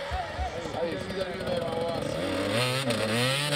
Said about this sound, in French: Et Swan Servageant met les gaz et ça passe pour lui aussi.